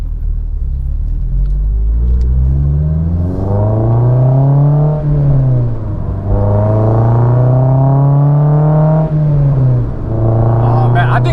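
A Honda S2000 with an Invidia Q300 exhaust cruises at partial throttle with the top down, its engine droning loudly up and down in pitch through gear changes, heard close from inside the car.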